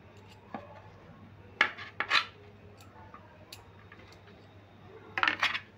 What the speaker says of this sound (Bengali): এই চাকুটা দিয়ে আমি এক একটা আলুকে চারটে করে ভাগ করে নিচ্ছি